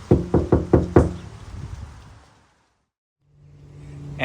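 Knuckles rap on a bare Toyota Tacoma door panel before any sound deadening: four quick, resonant knocks in even rhythm with a hollow, ringing decay that fades out over a second or two.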